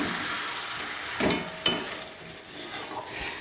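Chicken that has been cooked down a long time in oil, now sizzling in the pan with a steady frying hiss and a couple of spoon knocks and scrapes, close and alone.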